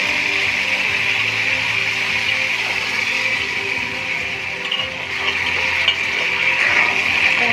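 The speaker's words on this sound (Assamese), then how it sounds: "এতিয়া এখিনি অকণমান ৰঙা হবলৈ ভাজি দিম" Jackfruit seeds and lentils fry steadily in hot oil in a kitchen pan, giving a loud, continuous crackling sizzle with occasional stirring scrapes and no talking.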